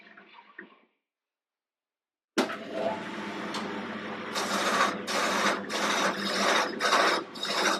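After a brief pause, a bowl gouge scrapes steadily against wood spinning on a lathe, a continuous rasping hiss that pulses in regular surges as each cut is taken.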